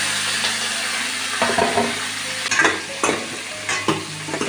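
Green chillies, tomatoes and onions sizzle in hot oil in a pan, with a steady frying hiss and a few scraping stirs of a spoon. It is close and heard alone.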